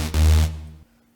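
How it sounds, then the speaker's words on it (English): A pitched-down saw wave oscillator from the Vital software synth plays a single short, deep, buzzy note that cuts off after under a second, heard alone. "Here's how the pitched down one sounds."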